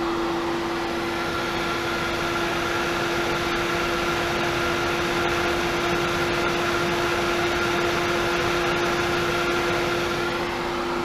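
A Hayward Super Pump VS variable-speed pool pump runs steadily nearby, giving a loud, constant motor hum with a whining tone and no talk over it.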